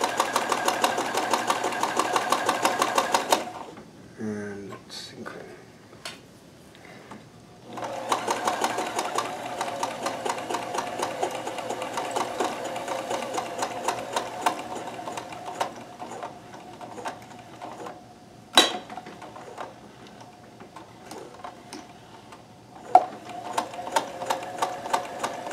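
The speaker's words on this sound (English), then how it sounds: "But we're able to get a very nice looking chain stitch now." A Kenmore 158.1914 sewing machine chain stitches with a size 11 needle, running in bursts of rapid mechanical clatter, pausing twice with short clicks and knocks between runs, close and fairly loud.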